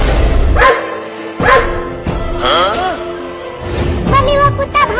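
A dog barks in several loud, close bursts spread across the moment, with a voice and other voices talking over and between the barks in a noisy household scene.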